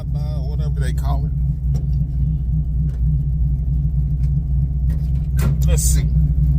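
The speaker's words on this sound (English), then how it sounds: "let's see if I can get a flyby or drive-by or whatever they call it" A 1978 Chevrolet Malibu muscle car with a 383 stroker V8 rumbles loud and close with a deep, steady low throb, while people talk over it and a few brief clinks sound.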